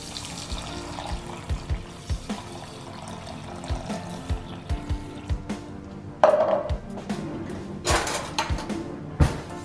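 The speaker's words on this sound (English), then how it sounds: "Now I put 600 ml water." Water is poured from a container into a cooking pot holding 300 grams of quinoa, a splashing, trickling pour with uneven bursts and a few louder clatters near the end.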